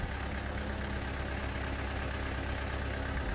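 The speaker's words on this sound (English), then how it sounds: "The technician started the tractor and checked the oil temperature." A tractor engine idles at a steady, unbroken rumble, a dense and even drone with no change in pitch or loudness throughout, heard up close without any voices.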